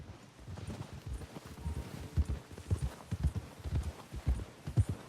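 Horse hooves clip-clopping at a walk in the video game Red Dead Redemption 2, a steady rhythmic series of soft, low thuds, fairly quiet and close, with no talking over them.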